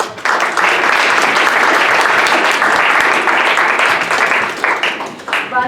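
An audience at an Armenian studies conference applauds panelists, producing a full, steady round of clapping that fades slightly toward the end.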